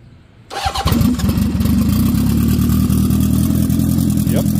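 A turbocharged Honda CB750 four-cylinder motorcycle engine cranks and fires after a quiet moment, then settles into a loud, close, steady idle with a throbbing rhythm.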